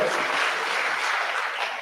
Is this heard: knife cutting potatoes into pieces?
no